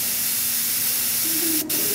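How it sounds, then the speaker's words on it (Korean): An airbrush used for painting Gundam plastic models sprays as its button is pressed, giving a loud, steady, close hiss of compressed air that fills the whole moment without talk. "이렇게 이상 없이 분사 버튼 눌러서"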